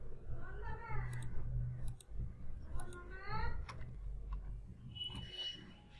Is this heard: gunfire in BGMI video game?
no